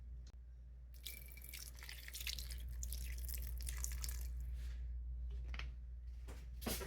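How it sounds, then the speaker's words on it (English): A thin stream of apple cider vinegar pours steadily into a slow cooker for several seconds, a soft splashing trickle over a low hum, ending with a few drips. "add enough apple cider vinegar to cover the bottom of the crock pot"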